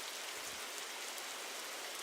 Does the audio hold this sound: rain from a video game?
yes